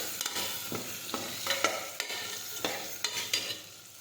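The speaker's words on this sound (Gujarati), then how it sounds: "હવે આપણે સાતળી દઈશું." Potatoes with cumin and turmeric sizzle in a hot pan while a spoon scrapes and stirs in repeated strokes, close and fairly quiet, with no voices.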